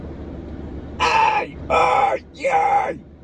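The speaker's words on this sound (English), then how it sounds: "this one sounds almost like fry screams" A man makes three rough vocal fry screams by combining throat singing techniques. They come as loud, gritty bursts of about half a second each, close up, with brief pauses between them.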